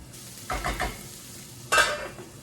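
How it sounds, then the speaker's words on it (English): Food sizzling and spattering in a covered frying pan, with a few quick stirring scrapes and a sharp burst of frying noise toward the end, close and fairly quiet. "I'm gonna keep it covered just because it's splattering"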